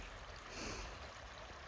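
Creek water flowing outdoors, a steady broadband rushing and trickling wash, fairly close and continuous for the whole short stretch, with no voices.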